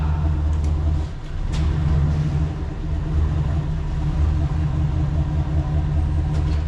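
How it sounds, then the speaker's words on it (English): Heavy trucks rumble past behind the camera near a farm field, a steady loud low-frequency drone of diesel engines that swells and eases without a break. "These trucks in the back of the camera suck."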